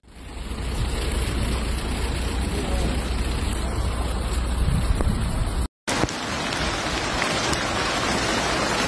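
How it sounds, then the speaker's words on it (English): Heavy rainstorm with flash flooding in Poland, a loud continuous roar of pouring rain and rushing water that cuts out briefly and then resumes just as dense. "In Poland, heavy rain, numerous floods and streets underwater."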